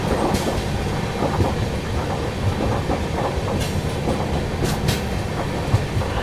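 An express train nears Sevagram with a constant loud rumble and rhythmic wheel clatter over the rails, steady throughout with a few sharper knocks.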